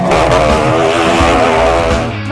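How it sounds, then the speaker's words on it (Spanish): Two motorcycles roar loudly and continuously inside a steel globe of death at a festival show, their engines droning and swelling together for the full stretch without any talk. "Maniobrar con dos motocicletas dentro de la esfera es sumamente complicado"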